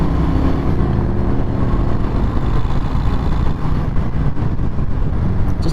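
Heavy 2023 Harley-Davidson Fat Boy motorcycle engine rumbling steadily and loudly throughout a demo ride, with a dense low-end drone and road and wind noise layered over it, no talk.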